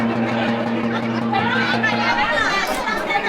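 Dense crowd chatter fills a busy wedding haldi gathering, a steady babble of many overlapping voices close by, with a low hum running underneath for most of the stretch.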